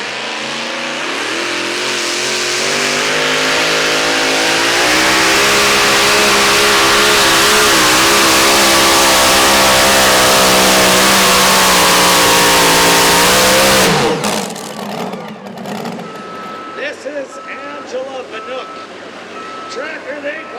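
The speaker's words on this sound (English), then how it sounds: "Ryan Leader, tractor they call the Hellraiser." A massive pulling-tractor engine roars at full throttle for about fourteen seconds at a tractor pull at the Vermilion Fair, pitch climbing and wavering, then cuts off abruptly, leaving a noisy crowd and rumble.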